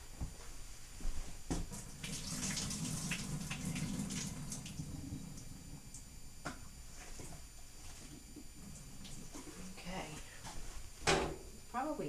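Cooked vegetables for a curry are drained in a sink, with water splashing and pouring close by, clattering knocks of a pot or colander, and a loud clunk near the end, all under occasional talk.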